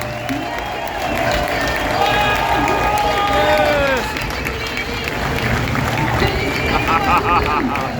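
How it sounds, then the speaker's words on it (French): Spectators at the Val d'Argenton race circuit during an evening event applaud and cheer as a dense crowd, while a voice talks over the noise throughout. "Applaudissez fort"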